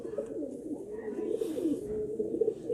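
A fancy flying pigeon coos steadily and fairly close, with a continuous low rolling murmur throughout and no talking.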